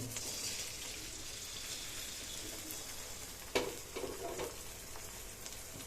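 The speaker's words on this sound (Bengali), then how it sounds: "এইখানে হচ্ছে ডিম আমলেটটা ফ্রাই" Egg omelette frying in a generous amount of oil in a pan at breakfast, a steady close hiss and crackle throughout with a sharp scrape or clatter midway and a few brief bumps after.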